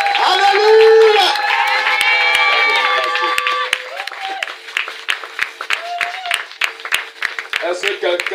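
A church congregation at a seminary gathering cheers, shouts and claps together, with high voices and ululating calls over a crowd roar that settles into scattered clapping and chatter.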